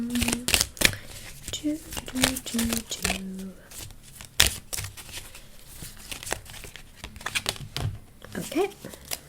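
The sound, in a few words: tarot cards being shuffled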